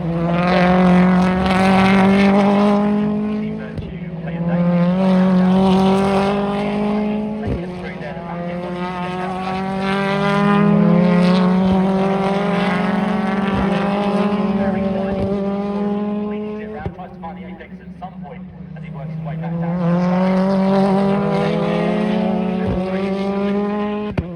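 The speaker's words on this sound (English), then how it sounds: "Of Tom Chilton, car number 3, he's gone and done the best of anyone through sector 1" Race cars screaming past on track during qualifying, with high-revving engines rising and falling in repeated passes and gear-change blips, close and loud, mixed with commentary.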